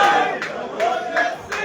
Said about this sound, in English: The crowd goes wild again.